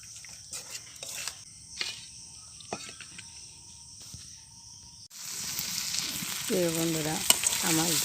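Spices crackle faintly in a pan with scattered utensil taps, then mutton goes in and a loud, dense sizzle surges up and holds, with brief voiced sounds over it near the end.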